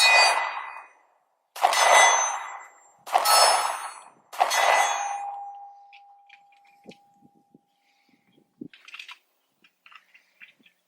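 Four loud metallic clangs from 10mm Sig Sauer P220 pistol rounds striking hanging steel targets, spaced about a second apart, each ringing out, the last with a long sustained tone, followed by faint scattered clicks.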